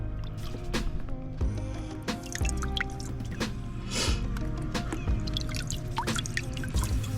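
Bleached sea urchin shells are lifted out of bleach water and set into fresh water, producing steady splashing, dripping and pouring sounds close by, continuous and fairly busy throughout.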